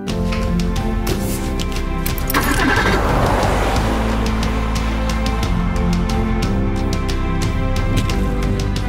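A car engine starts and idles steadily up close, setting off on a drive through Dutch countryside to search for eagle owls, with a continuous low engine drone that holds through the whole stretch.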